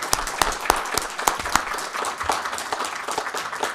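An audience at a board meeting applauds with steady, moderately loud clapping that lasts the whole stretch, with sharp individual claps standing out from the dense patter.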